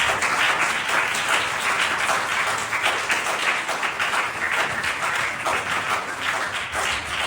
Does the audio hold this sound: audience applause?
yes